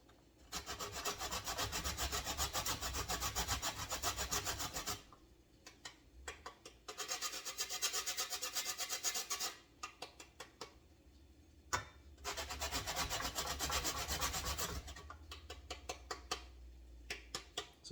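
A Jamaican chocolate ball is rubbed on a grater for hot chocolate tea, making quiet, rapid rasping strokes in three sustained runs separated by short pauses and a few single scrapes.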